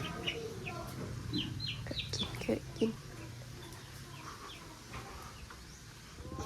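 Chickens cluck quietly in short, scattered bursts on a rural rice-farming homestead, and a voice speaks briefly partway through.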